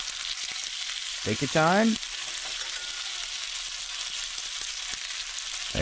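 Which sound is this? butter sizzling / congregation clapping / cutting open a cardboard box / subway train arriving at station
butter sizzling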